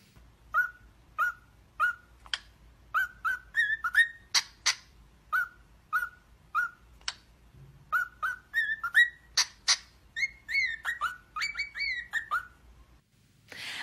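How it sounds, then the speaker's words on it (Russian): A pet parakeet chirps in the morning with quick, bright whistles and trills in short repeated bursts, fairly close but soft, against a quiet room with a faint low hum. "Какой хороший попугайчик уже с утра радуется новому дню."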